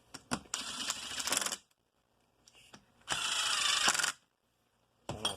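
Impact wrench tightening crankcase bolts on a YZ250 two-stroke engine: three short rattling bursts of hammering, close by, separated by brief silences.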